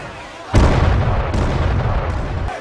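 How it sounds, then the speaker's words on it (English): Heavy cannon fire from a ship in the TV show Black Sails, a deep booming blast erupting suddenly and rolling on with a dense rumble of further shots and debris, loud and close. "why are your men firing on their own ship?"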